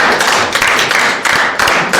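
A classroom audience claps for a cadet presentation, a dense steady patter of many hands filling the room for about two seconds without talk.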